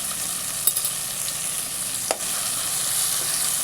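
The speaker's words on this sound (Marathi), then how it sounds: "मस्त परतून घेऊया." Onion and turmeric sauté in a pan with biryani masala for an egg biryani, giving a steady close sizzle with a couple of sharp utensil clinks against the pan.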